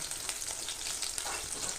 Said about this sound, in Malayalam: ചെറിയ ഉള്ളി ചെറുതാക്കി നുറുക്കിയിട്ട് കൊടുക്കുന്നുണ്ട്.